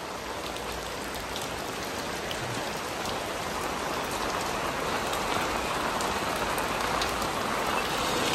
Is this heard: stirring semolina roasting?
no